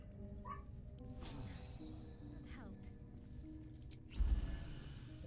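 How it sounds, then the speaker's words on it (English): A dog barks in the fantasy video game Baldur's Gate 3, a few short yips over quiet game ambience and low talk, with a louder bark near the end. "My little dog is barking."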